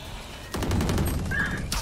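Gunfire in Valorant: a loud burst of rapid automatic shots starts about halfway through and keeps going to the end, close and sharp over steady game noise.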